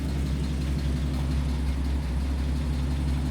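A 77-year-old car engine idles steadily, heard from behind the car near the exhaust, with a deep, constant low rumble throughout.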